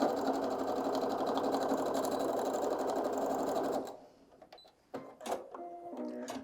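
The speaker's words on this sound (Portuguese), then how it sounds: "Agora eu tô costurando aqui o outro lado." A sewing machine runs steadily, stitching the second side of a fabric toiletry pouch for close to four seconds, then stops abruptly, leaving faint handling clicks and small rustles.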